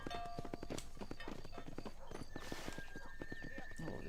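Horse hooves clip-clop in a rapid steady rhythm in the video game Red Dead, with a whinny partway through, under game music and a voice talking.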